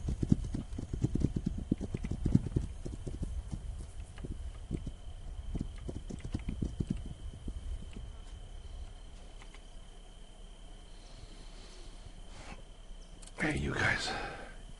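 In the video game This Land Is My Land, horse hooves clip-clop in quick rhythmic runs against a background of crickets and insects, then fade out. A brief louder burst follows near the end, and a person talks faintly.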